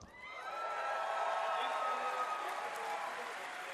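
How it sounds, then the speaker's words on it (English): A large audience at an E3 presentation cheers and shouts loudly after a Wolfenstein game announcement, the roar swelling within the first second and holding steady, with a voice talking over it. "Why is everyone cheering?"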